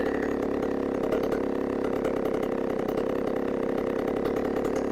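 A chainsaw engine with a newly installed carburetor runs continuously and loudly up close, holding a steady, rough mid-pitched drone with a fast rattling texture throughout.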